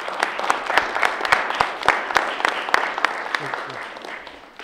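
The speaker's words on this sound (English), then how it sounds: "Now you can give these sisters a round of applause for real" An audience claps for the sisters at a mentoring program event, dense steady applause with a few sharper individual claps standing out, voices faintly underneath.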